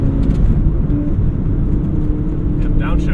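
A track-modified VW Mk5 GTI, a front-wheel-drive high-horsepower car on small tires, drones with a steady loud engine and road noise from inside the cabin while it downshifts, with people talking over it.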